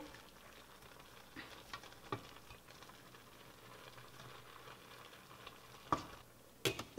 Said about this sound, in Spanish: Ahora voy a agregar el brócoli. Vamos a revolver muy bien para que se integre